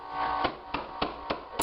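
A rubber mallet taps hardwood flooring boards during installation, giving four evenly spaced, sharp knocks close by with no voices.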